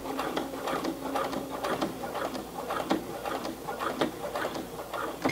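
A Brother PC 420 sewing machine stitches a hem through heavy denim jeans, its rapid needle chatter running steadily and close by the whole time, with faint rhythmic knocks in the mechanism and no talking.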